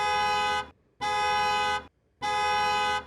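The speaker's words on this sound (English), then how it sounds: "We hear repeated honking outside." A car horn outside blares in three long, loud honks, each about half a second to a second, separated by short pauses.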